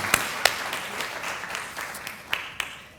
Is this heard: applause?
yes